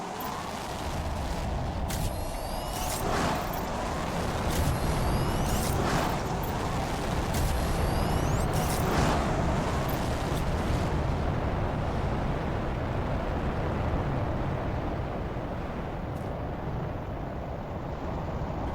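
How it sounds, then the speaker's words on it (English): Several seed spreader rockets launching in Planet Crafter, a loud sustained roaring rumble with repeated whooshing launch bursts spaced a few seconds apart, filling the whole stretch before easing off. "Now 4 of the seed spreader rockets."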